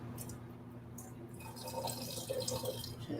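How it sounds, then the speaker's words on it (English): Water is added to a plant-based cream sauce being thinned in a kitchen, heard as a faint, soft trickle with a few light drips close by in a quiet room. "add a little bit more water"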